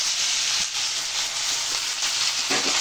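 Whole cumin seeds and scooped-out potato flesh frying in hot oil for a stuffed potato filling, a continuous close hiss and sizzle with faint stirring.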